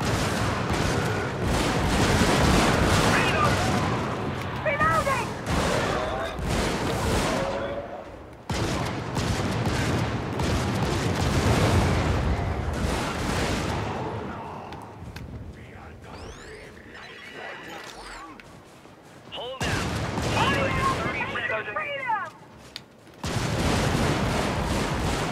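Rifle and bayonet gunfire in a first-person shooter game: dense bursts of shots and booming fire in long stretches, broken by short lulls, loud and close.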